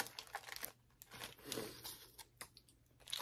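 Paper wrapping around a Taco Bell chalupa crinkles and tears close by in quick, quiet rustles as it is pulled away from the cheese-covered food.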